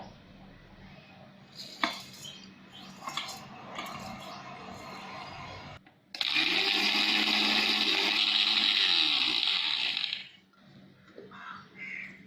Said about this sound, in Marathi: हे जे जाड पोहे आहेत ना, ते मिक्सरमधून आपल्याला पीठ करून घ्यायचं आहे